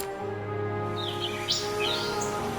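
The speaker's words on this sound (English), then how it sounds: "Sometimes when you go in, it sounds like birds." Bird chirps and tweets sound inside a base in the strategy video game Rise to War, several quick calls over a steady droning ambient background.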